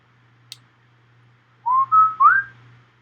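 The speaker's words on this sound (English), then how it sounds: "began whistling" A person whistles a short rising three-note phrase, clear and close after a small click, over a faint steady low hum.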